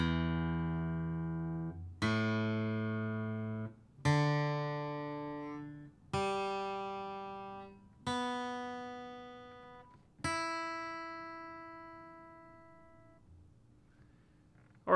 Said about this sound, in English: starting with the tuning, it's going to be an EADGBE